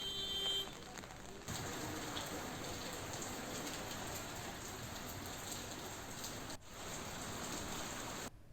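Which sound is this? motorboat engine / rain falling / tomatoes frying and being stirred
rain falling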